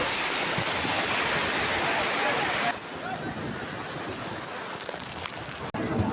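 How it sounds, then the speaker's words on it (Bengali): Heavy rain pours down on an outdoor cattle market where a cow is bought for Qurbani, making a dense, constant hiss that eases slightly partway through. "হাটে আসার পর এমন একটা বৃষ্টি নামলো যে পুরো পরিবেশটাই বদলে গেল।"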